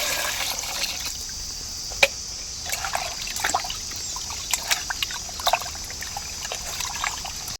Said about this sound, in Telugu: ఇప్పుడు వాటర్ వేసి మనం శుభ్రంగా కడుక్కుందాం